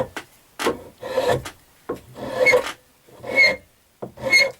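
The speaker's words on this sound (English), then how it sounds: "And here's a wood rasp." A wood rasp files a hardwood hammer handle in repeated rough scraping strokes, about seven rasping passes separated by short pauses, close and distinct with no talking.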